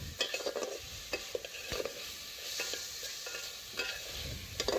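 Vegetables for a vegetarian khichuri stirred and scraped in a pan, the mix cooked down and dry, with repeated spoon scrapes over a steady soft sizzle, close and moderately loud, no talking.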